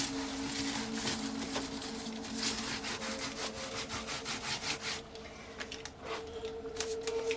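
Glued paper being rubbed down onto a craft piece, a continuous dry scraping and rubbing made of rapid repeated strokes, close and fairly loud, with no voices.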